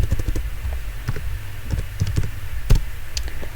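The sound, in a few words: typing a command on a computer keyboard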